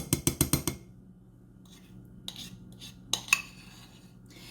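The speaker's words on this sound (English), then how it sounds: "And then we're just going to stir this in until it's fully melted." Spoon clinking rapidly against a glass while stirring bourbon with a buttery frosting mixture, a quick run of bright taps followed by a few scattered softer clinks.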